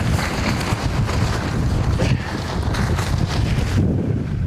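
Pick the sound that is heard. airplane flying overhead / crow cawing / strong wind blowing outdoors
strong wind blowing outdoors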